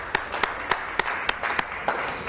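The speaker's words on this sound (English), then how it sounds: "everyone to give him a round of applause." Applause in a legislature, a brief round of sparse, distinct claps at a steady rhythm, moderately near and fairly quiet.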